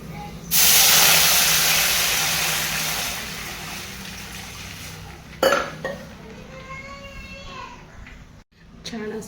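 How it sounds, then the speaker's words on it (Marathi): A pot of water with turmeric, urad dal and salt lets out a loud, steady steaming hiss that slowly fades over several seconds, then someone talks. "छान असं उकळलेलं आहे"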